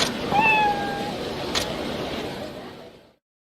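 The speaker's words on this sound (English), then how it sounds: "Let me in, that's my cat." A cat meows once in the video game Like A Dragon: Ishin, a clear close mew with rising harmonics over a noisy game background, followed by a brief click and a fading rumble.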